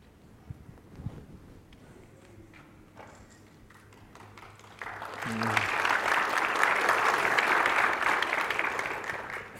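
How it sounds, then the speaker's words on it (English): Applause from a conference audience after a talk on open source security, starting sparse and swelling into dense clapping from about five seconds, with faint voices underneath. "Fake applause."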